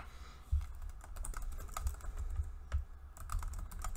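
Steady typing on a computer keyboard while filling out a survey, with a quiet run of close keystrokes, a few louder taps and no talk.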